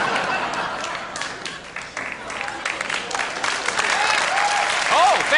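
A late-night TV studio audience applauds and cheers, a full, sustained roar of clapping with crowd voices and a few whoops that swells louder near the end.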